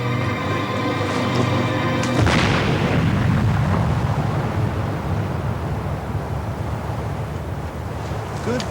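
A large thermite and TNT blast in a military action drama, a sudden heavy boom that rolls into a long rumbling roar and debris wash, with a steady tone before it.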